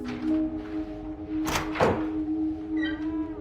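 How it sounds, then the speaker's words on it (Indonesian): A couple of soft knocks on a hotel room door, two muffled thuds close together over a low droning room tone, followed by a faint tonal flourish. "Jamal mengetuk perlahan dan masuk ke dalam kamar luas dengan dehaman"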